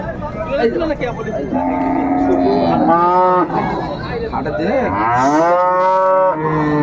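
A young bull calf lets out several drawn-out moos close by, strong and nasal, with people talking in the background between calls at a cattle market.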